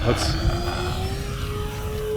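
Electric motor whine of an E-Flite Twin Timber 1.6m RC airplane climbing, a steady rising tone heard at a distance under wind noise and rumble.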